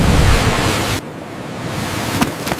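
Ocean waves crash in a stormy sea: a loud burst of surf that drops off abruptly, then a steady rush of water and wind, with no voices.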